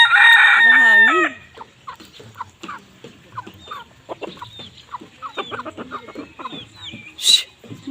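Roosters crow loudly and close by at the start, then chickens cluck and chatter at a steady, scattered pace under a hot, still mango-tree hangout, with brief faint talk in the background.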